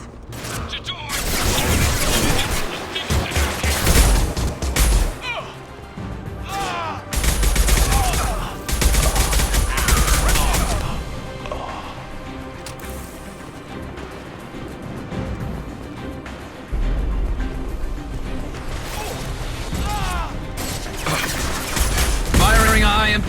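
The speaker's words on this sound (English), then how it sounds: "Firing a high-impact shot." Heavy gunfire in a video game, dense bursts of rapid shots and booming impacts in long loud waves separated by brief calmer stretches, with battle noise and voices mixed in.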